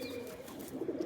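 A Giribaz pigeon from Rajshahi gives low, soft cooing close by, rising slightly toward the end over a quiet hiss.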